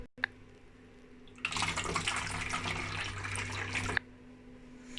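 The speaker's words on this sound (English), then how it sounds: "First, we pour the culture into the bottom of the bottle," Cultured, inoculated milk pours from a container into the bottom of a plastic bottle, a steady splashing, gurgling stream running for a few seconds, close and fairly quiet, stopping abruptly.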